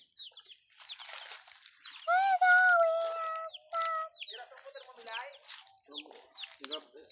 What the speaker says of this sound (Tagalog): May ibon dito na kulay green.